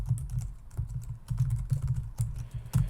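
Typing on a computer keyboard while entering a command to open a Vue component file, with quick, close, crisp clicks coming in uneven bursts and no voices.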